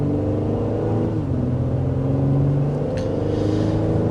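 Cabin road noise inside a 2024 Honda Pilot Elite cruising at 55 mph on a road with the climate fan on its lowest setting: a steady, loud, low rumble and engine drone, with one faint tick partway through and no talking.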